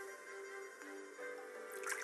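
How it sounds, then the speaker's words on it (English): Water pouring into a glass as a Joy-Con HD rumble demonstration, a steady liquid fill with dripping, trickling texture rising toward a brighter splash near the end, close and fairly quiet with no voices. "And you can feel water filling the glass."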